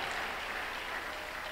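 Church congregation applauding at a Tuesday miracle service, steady dense clapping throughout, fairly distant and even, with no voices standing out.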